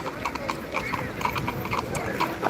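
Horse hooves clip-clopping on a street in Salzburg, a steady rhythmic clatter of several hoofbeats amid outdoor city ambience and faint talk.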